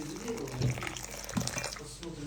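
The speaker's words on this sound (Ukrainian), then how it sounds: "Зараз я принесу чайничок. Заливаю." Boiling water is poured from a kettle over nuts in a kitchen, giving a brief splashing, gurgling pour with a couple of louder sloshes.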